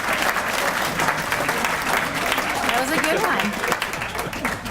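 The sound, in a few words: audience applause for pastor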